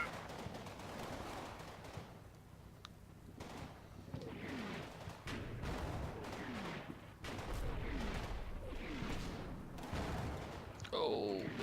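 Gunfire in a Combat Mission Battle for Normandy wargame, with a Panther tank firing on machine-gun positions: repeated sharp shots and heavier booming bursts that fire in irregular clusters throughout, some close and loud, others more distant.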